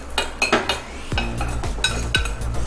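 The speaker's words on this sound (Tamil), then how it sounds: "நாம் ஒரு கரண்டியை வச்சு நாம் எடுத்து வச்சுருக்க கொஞ்சோண்டு நெய் விட்டு பருப்பு திராட்சை இதை பொன்முறுவலாக வறுத்துடுங்க" Metal ladle scraping and clinking against a pan while cashews and raisins fry in ghee for moong dal payasam, with repeated sharp clinks and stirring scrapes over a low hum.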